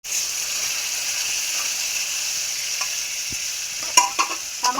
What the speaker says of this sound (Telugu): ఉల్లిపాయలు ఇలా మగ్గుతున్నాయి కదా.